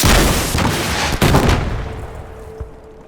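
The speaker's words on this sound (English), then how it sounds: "one firing the bazooka and the other acting as a loading assistant. Firing!" A World War II US bazooka rocket launcher fires with a loud, close blast, followed by a second thump and a rumbling roar that slowly fades away.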